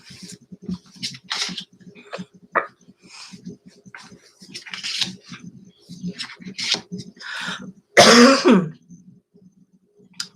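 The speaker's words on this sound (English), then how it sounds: "Coughing all of a sudden." A single harsh cough bursts out near the end, loud and close, after scattered quieter clicks and faint throat noises.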